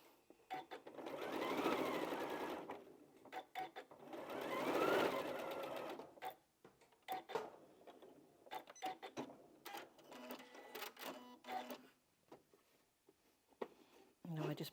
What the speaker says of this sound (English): Now I'm going to sew it from that side so I can see what the seam's doing